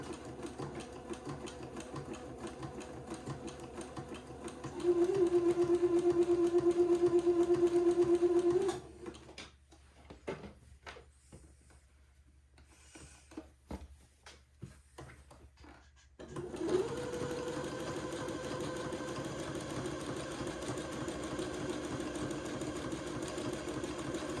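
A sewing machine zigzag stitching around the armholes of a baby daygown, a steady whirring hum with a raised pitch as the motor runs, stopping for a few seconds of handling clicks before the hum resumes.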